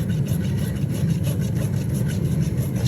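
A farrier's rasp dressing back a horse's hoof, a loud, close, continuous rhythmic scraping of rapid back-and-forth strokes with no voices.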